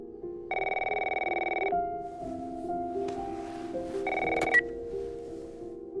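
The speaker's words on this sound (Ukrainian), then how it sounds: "Але спокійно атмосферу цієї сцени порушує дзвінок дядька Томі" A telephone rings in The Last of Us, Uncle Tommy's incoming call, with two bursts of electronic ringing separated by a pause and low ambient game tones in between. No one speaks.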